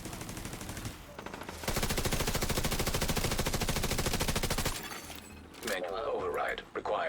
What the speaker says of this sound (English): I'm getting shot at from there